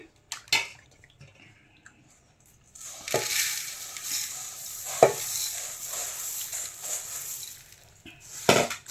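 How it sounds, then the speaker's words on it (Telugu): Puffed rice being tossed and mixed with spice masala in a bowl, a dry rustling stir that starts after a few quiet seconds, with scattered sharp clinks of the utensil and no voices. "ఈ బుర్రలను కలుపుకోవాలి ఫ్రెండ్స్ బాగా"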